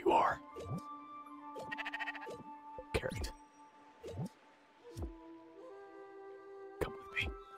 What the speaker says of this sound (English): Where is the sheep? I know there's a sheep around here somewhere.